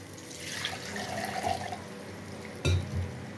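Water poured into a sizzling tempering for Malvani anchovy curry, a steady watery rush under frying hiss, ending in a brief louder splash and clunk near the close, with no talking.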